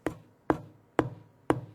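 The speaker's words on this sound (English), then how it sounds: "I can demonstrate this by banging on the side of my bass" Side of a finger bangs against the body of a bass guitar, four sharp evenly spaced knocks about half a second apart, close and fairly loud with short resonant tails.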